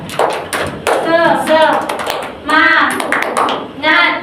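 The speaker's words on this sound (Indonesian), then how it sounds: "Tepuk semangat." A primary school class does a rhythmic spirit clap at the end of a science lesson. Children chant in unison between sharp, patterned bursts of clapping that come close and loud.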